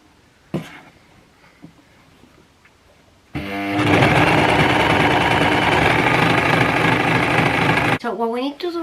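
An overlocker stitches pyjama bottom seams in a loud, steady mechanical whir lasting several seconds, preceded by quiet handling sounds and followed by a brief voice.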